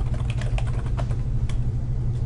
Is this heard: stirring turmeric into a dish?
no